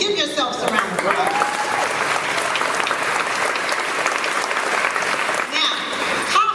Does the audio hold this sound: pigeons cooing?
no